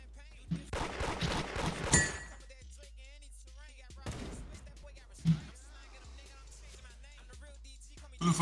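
A few loud booming bursts in the Roblox game Da Hood, fitting RPG fire, spread among sparse shots and thuds, with a person talking over the scene.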